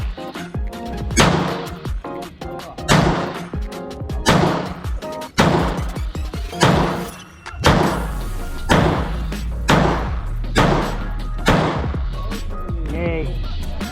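Loud gunshots crack one after another at a firing range in Angeles City, Pampanga, spaced roughly a second or so apart with sharp thuds and ringing tails, heard up close over a steady low background.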